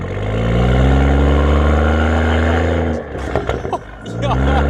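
An all-wheel-drive car on winter tires climbs a snowy hill, its engine droning steadily and loudly up close, briefly dipping as someone talks over it before the engine swells again.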